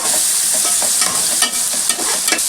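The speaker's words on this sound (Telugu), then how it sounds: "పసుపు వేసిన తర్వాత బాగా కలిసేటట్టు కలుపుకుందామండి" Onions with turmeric sizzle steadily in a hot pan while a spoon stirs and scrapes through them, giving soft scraping accents over a constant loud frying hiss, close up with no talking.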